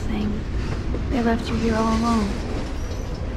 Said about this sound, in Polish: Pociąg, słyszę.